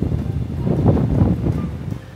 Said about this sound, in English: It's a very windy and gray day today.